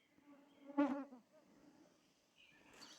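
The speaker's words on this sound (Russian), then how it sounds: "Жужжание комаров, пение птиц." A close mosquito buzz swells past the microphone briefly, with a thin whining drone lingering faintly after in a quiet outdoor forest setting.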